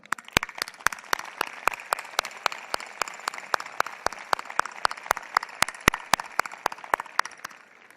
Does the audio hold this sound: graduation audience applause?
yes